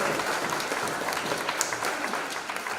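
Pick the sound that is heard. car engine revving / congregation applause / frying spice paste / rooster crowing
congregation applause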